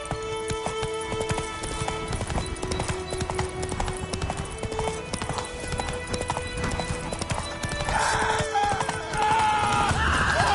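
Horse hooves clip-clop steadily at a gallop in The Witcher video game, a continuous rhythmic beat under game music, with a brief neigh-like burst near the end.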